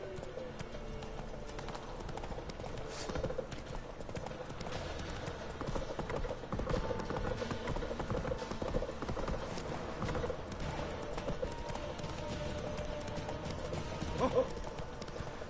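Roach, the horse in The Witcher 3, clip-clops steadily on hooves throughout under game sounds, with a whinny and someone talking over it.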